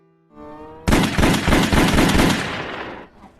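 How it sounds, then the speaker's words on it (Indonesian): A rapid burst of loud film gunfire, shots cracking in quick succession for about two seconds before fading, preceded by a brief tonal hum. "Tanpa pikir panjang, Bupati Doyle memberikan beberapa tembakan hingga membuat psikopat Walter tewas."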